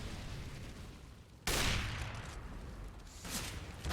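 Gunfire in a Counter-Strike match during a fight at the A bomb site: loud, dense bursts of rapid shots that erupt suddenly and keep cracking over a constant background with no talk.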